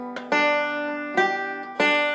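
A banjo played hesitantly by someone out of practice after a long break, with three separate plucked strums ringing out bright and close, each left to decay before the next.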